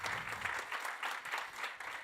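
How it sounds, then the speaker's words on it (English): Audience applause at a high-level human rights conference, a dense, steady wash of many hands clapping in a large hall, moderately loud and continuous for two seconds with no speech over it. "A big applause."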